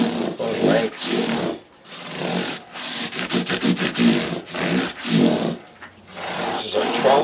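Sandpaper of 600 grit rubbed full length along the wooden neck of a Martin guitar, a steady rasping scrape in repeated strokes with brief pauses between passes, close and fairly loud.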